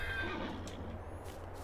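A horse in the Farming Simulator 22 game gives a short, faint neigh at the start, over a quiet low background hum.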